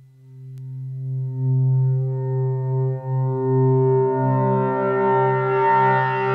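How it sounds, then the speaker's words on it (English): A raw oscillator from a Mutable Instruments Plaits Eurorack module holds a single static pitch, a steady harmonically rich synth tone with slight wavering that grows brighter as upper overtones fade in over about six seconds. "when I unmute it on the mixer, we're just going to hear the raw oscillator at a static pitch"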